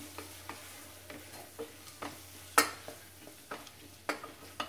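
Kashmiri chili powder is stirred into hot oil in a pan for a quick chicken curry, a quiet sizzle punctuated by soft spoon scrapes roughly every half second.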